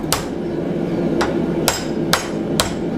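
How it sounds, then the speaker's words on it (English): Five sharp metallic hammer strikes ring out at uneven intervals as bent metal is hammered square for a stake cup holder, close and fairly loud, over a steady background hum. "just hammer that"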